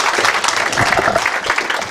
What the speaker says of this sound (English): I think she deserves a long round of applause.